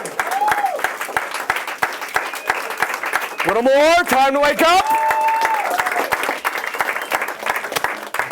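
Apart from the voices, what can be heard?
audience applause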